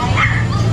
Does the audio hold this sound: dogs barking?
yes